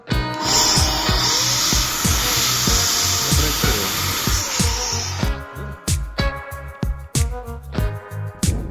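An electric paint sprayer that had not been blowing is tested, giving a loud, close, whining motor drone with a pulsing rhythm. Later it breaks into choppy on-off bursts.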